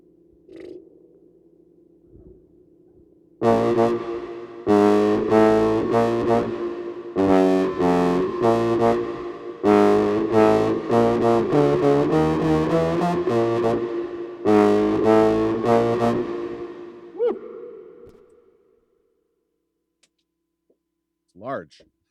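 A trombone played through a fuzz effects pedal growls in a series of sustained, heavily distorted notes and short phrases, loud and buzzy, with quiet pauses before and after the playing.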